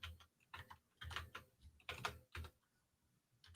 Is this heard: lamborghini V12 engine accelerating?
no